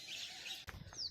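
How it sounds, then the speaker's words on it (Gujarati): Morning birdsong in a village, with sparrows chirping in a brief bright burst of overlapping tweets, fairly close, followed by a short rustle and another high call. "સવારમાં બધાનો પક્ષીઓનો અવાજ સાંભળો"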